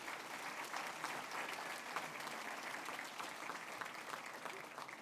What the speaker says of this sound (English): If we could give all of these sponsors a round of applause for their support tonight.